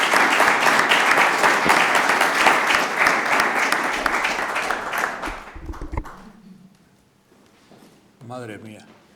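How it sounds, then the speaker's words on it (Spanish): Audience applause at a lecture on the Battle of Las Navas de Tolosa, a full round of clapping that swells for about five seconds, then dies away into near silence before a voice begins speaking. "Les pido un fuerte aplauso,"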